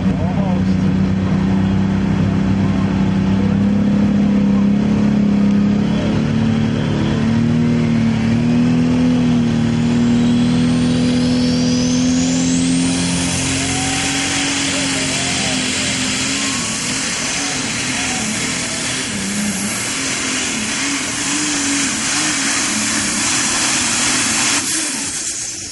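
A diesel super stock tractor roars under full load at an NTPA tractor pull in Wilmington, Ohio, its engine note loud and sustained, climbing in pitch as it revs, with crowd and announcer voices mixed underneath.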